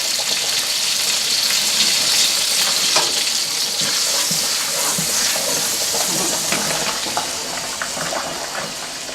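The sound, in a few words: garlic sautéing in a pan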